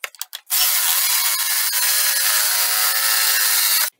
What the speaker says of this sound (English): take a jigsaw and cut it out